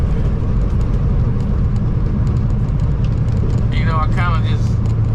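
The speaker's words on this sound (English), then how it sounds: "I kind of just rolled into the throttle" A car with a newly repaired clutch gets gentle throttle and pulls away, its engine a low, steady drone while a voice briefly cuts in near the end.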